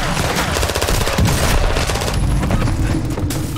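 Dense automatic gunfire from the Call of Duty Warzone 2.0 video game fills a continuous loud barrage with rapid overlapping shots and occasional booms, and no voices over it.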